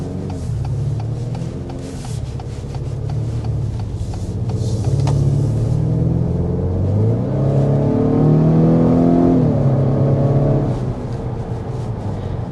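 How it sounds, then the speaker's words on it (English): Turbo four-cylinder engine of a 2024 Acura RDX revs with a deep growl, rising and falling through a couple of throttle blips, heard close and steady without talk. "even though it's a turbo 4-cylinder, it actually sounds kind of like a V6 growl"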